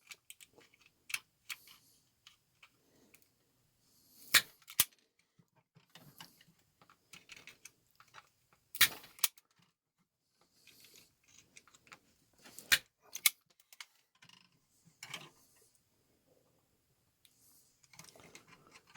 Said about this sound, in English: We'll cut all these ends of the wires here to be all equal.